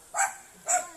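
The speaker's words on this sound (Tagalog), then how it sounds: "may mga aso dyan. Matahol." A dog barks twice in quick succession, two short sharp woofs at moderate distance, with quiet between them.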